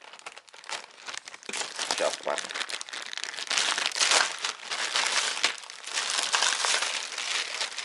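A plastic package for a paintless dent repair kit being unwrapped and crinkled, with steady close rustling and crackling throughout, while someone speaks briefly over it.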